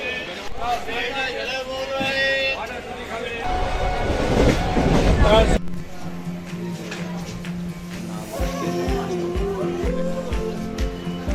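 A passenger train pulls into Bardhaman station in West Bengal, heard from on board with loud rolling rumble and rail clatter, a surge of noise midway, then steadier running with background chatter and voices.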